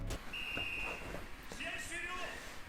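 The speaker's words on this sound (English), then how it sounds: "I love it when the episodes start with a whistle" Referee-style whistle at the start of a Kuroko no Basket anime basketball episode, a thin steady tone with a couple of short blasts beneath someone talking.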